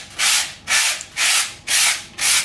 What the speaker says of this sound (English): now we are going to lightly sand this using a 320 grit sandpaper